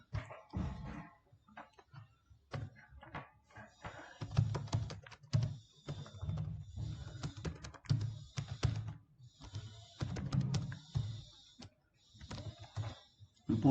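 Keys on a computer keyboard clatter in quick uneven bursts while a Java program is typed, close and moderately loud, with short pauses between runs and a voice speaking over parts of it.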